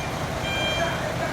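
A forklift backing up gives off a faint, steady reversing beep that sits under a constant wash of engine and outdoor noise during a workshop move.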